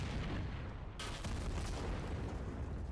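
A tank blowing up in a video game: a sudden broad burst of explosive noise that swells and then rolls on as a dense, rumbling roar for a couple of seconds, loud and close with no talking.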